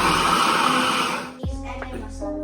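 An electric food chopper whirs steadily while grating cauliflower for gobi paratha, then cuts out about halfway through and leaves a low hum with a few faint knocks.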